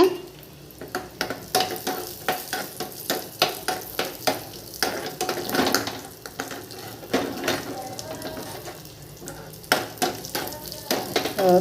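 Cashews and raisins frying in a pan for rumali vermicelli payasam, a soft, moderate sizzle broken by frequent rhythmic scrapes of a spoon stirring close by.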